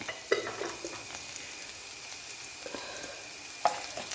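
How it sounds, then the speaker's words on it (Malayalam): Curry leaves dropped into hot oil for a sambar, a faint steady sizzle with a couple of light sharp pops, heard alone. "എണ്ണയ്ക്കകത്തല്ലേ ഇരുന്നത് ഇച്ചിരി കറിവേപ്പില ഇട്ട് കൊടുക്കാം"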